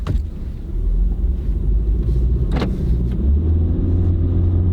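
A Honda car with a CVT accelerates, its steady engine and road rumble heard from inside the cabin, loud and even with a brief click partway through.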